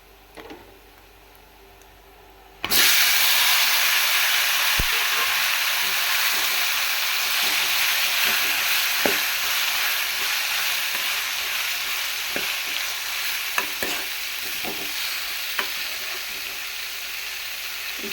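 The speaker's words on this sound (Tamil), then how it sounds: "நல்லா கலந்து விட்டுட்டு இப்போ தக்காளி சேர்த்துக்கலாம்" Tomatoes hit a hot frying pan with turmeric-spiced mixture, bursting into a loud, steady sizzle after a quiet start, with scattered clicks and scrapes of stirring throughout.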